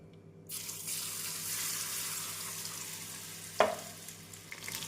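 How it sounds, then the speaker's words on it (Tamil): Mushrooms deep-frying in hot oil, a dense steady bubbling hiss that starts abruptly and carries on close up, with a brief clatter of a utensil near the end. "நாம் அனைத்து காளானையும் பொரித்து எடுத்து விடலாம்"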